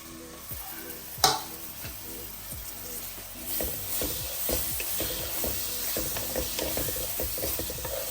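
Onions sizzle in oil in a very hot clay pot while a spoon scrapes and stirs in quick repeated strokes, a steady crackle with soft clicks throughout and a brief sharp knock near the start.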